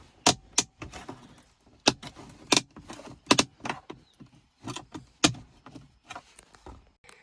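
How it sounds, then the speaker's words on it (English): A plastic bezel is pried up from the center console of a Mercury Mariner/Ford Escape, producing a string of sharp, close clicks and snaps in irregular bursts with quiet gaps between them. "So we are going to pop up this little bezel here."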